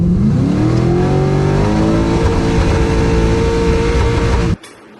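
A drag-launched car with a tight torque converter, its engine revving hard and steadily climbing toward 6,000 RPM, loud and close throughout before cutting off abruptly near the end.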